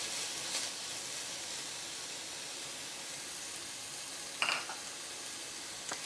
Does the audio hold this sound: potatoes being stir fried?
yes